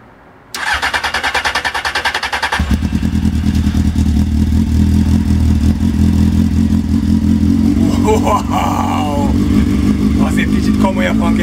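A 2005 Honda CBF 600N motorcycle engine cold-starts after five months unused, cranking and catching, then settles into a loud, close, steady idle with a rhythmic mechanical throb and occasional revs.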